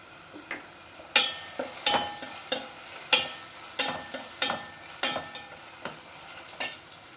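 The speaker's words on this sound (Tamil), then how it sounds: "நல்லா வதங்கினா தான் கொஞ்சம் டேஸ்டியாக இருக்கும். வதங்கின பிறகு பட்டாணி போட்டுக்கலாம்." Vegetables and green peas sautéed and stirred in a pan for wheat upma, with a spoon scraping in irregular strokes over a soft, steady sizzle, close and moderately quiet, no talking.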